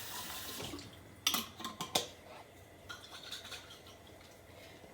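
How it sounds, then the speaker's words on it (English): Red wine is swished around inside a jar for a beef ragu, giving a soft watery slosh followed by a few quick sharp clinks of glass, close and fairly quiet. "So we're just going to swish our jar here."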